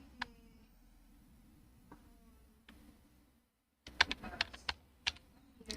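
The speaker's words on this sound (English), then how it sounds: "we're going to key in Inventory Split and click OK" Typing on a computer keyboard: a few sparse, sharp key clicks, a brief silence, then a quick burst of close, irregular keystrokes, with no voices.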